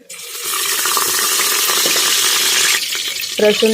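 Garlic fries in hot oil inside a pressure cooker, a loud continuous sizzle that fades near the end and gives way to clinking and stirring.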